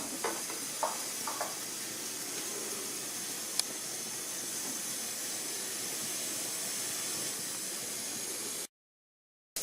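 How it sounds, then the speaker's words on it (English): Mustard and cumin seeds crackle in hot oil while cooking khichdi: a steady sizzle with a few sharp pops early on, then a sudden cutoff to silence near the end. "Now our mustard seed start popping"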